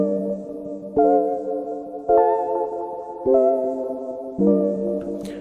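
Sustained synth-keyboard chords change four times at a steady pace, each struck with a soft attack and held, warm and moderately loud with no voices.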